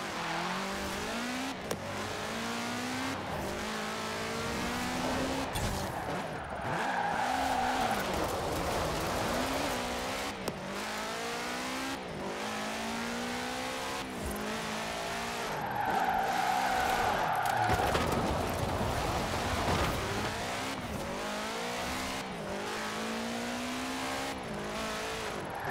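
A Mitsubishi car drifts in the racing game Forza Horizon 4, its engine rising and falling through gear changes with squealing, skidding tires, loud and continuous without voices.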